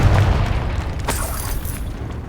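A Confringo spell blast in Hogwarts Legacy bursts out as a loud, close boom with a heavy low rumble, then a second sharp crack about a second later, and a rolling tail continues underneath.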